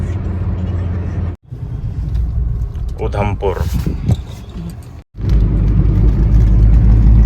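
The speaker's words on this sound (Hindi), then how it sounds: "इन रास्तों पे 100 की स्पीड पे गाड़ी चल रही है" A Hyundai Santro cruises near 100 km/h on mountain roads around Udhampur, its engine and road roar loud and steady throughout, with two brief dropouts and someone talking over the noise.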